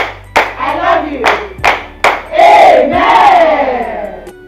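A crowd at a donation gathering gives several sharp, separate claps, then breaks into loud cheering and shouting voices close by.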